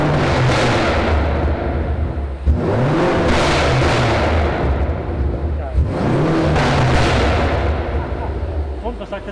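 A modified car engine is revved hard three times in a row, each rise and fall ending in loud crackling and banging from the exhaust, close by, with a voice talking between and over the revs.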